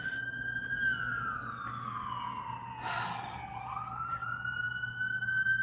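An ambulance siren wails at moderate distance, a single long tone sliding downward and then rising again, steady and unbroken under faint background noise.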